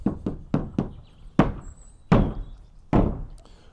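Hammer knocks on a tongue-and-groove roof board being tapped into place: a quick run of four light knocks, then three heavier, spaced thuds, close and dry.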